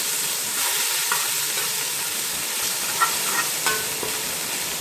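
A spice paste is mixed into a pan for yakhni pulao, giving a loud continuous sizzle with occasional stirring scrapes and small clinks of a spoon against the pan, no talking.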